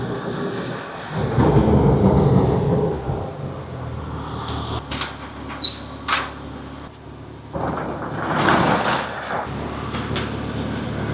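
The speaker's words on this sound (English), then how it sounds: "We're on tornado watch and I already hear thunder" Thunder rumbles during a tornado watch, a low rolling boom swelling and fading twice with rain hiss and scattered clatter around it.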